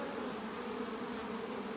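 Honey bees buzzing on a hive frame, a dense continuous drone of many bees humming close and steady with no break.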